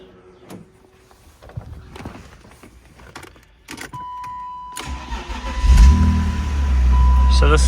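A Ferrari F355 suffering a misfire, running on a booster battery, cranks briefly and catches with a deep rumble that settles into a loud, steady idle, preceded by small clicks and handling noises nearby.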